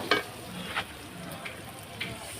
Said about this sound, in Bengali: আর পেঁয়াজটা হালকা করে একটু ভেজে নেব